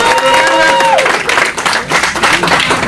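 Applause from an audience at an open public forum on cannabis legalization in Olympia, Washington, a steady dense clatter of many hands clapping, loud and close for about three seconds, with a faint tonal sound early on.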